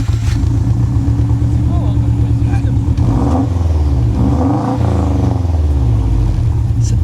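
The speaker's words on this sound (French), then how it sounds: "on entend beaucoup mieux le son particulier du moteur Subaru" Subaru Impreza GT Turbo, ethanol-remapped with an added silencer, revving loudly up close, its engine note rising and falling in repeated sweeps, with voices talking over it.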